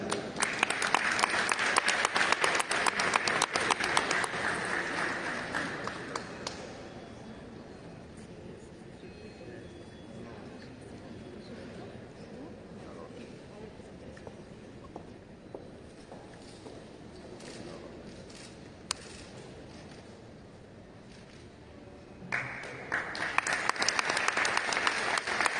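Applause breaks out at a government ceremony receiving a collection of traditional art and crafts, strong for about six seconds, then fades to a low murmur of room noise, before loud clapping swells again near the end.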